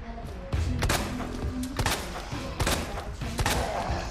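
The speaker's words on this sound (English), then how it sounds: "Those are good shots right there." Magnum gunshots in Resident Evil 2 Remake, a few heavy, booming single shots spaced apart, loud and close over dark game ambience, with short thuds between them.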